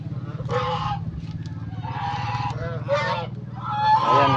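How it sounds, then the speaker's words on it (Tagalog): Egg-laying geese in a backyard pen honk repeatedly in loud, nasal bursts close by, over a steady low hum, with occasional calls from nearby ducks and chickens mixed in. "At dito sa kabila may mga nangingitlog na gansa."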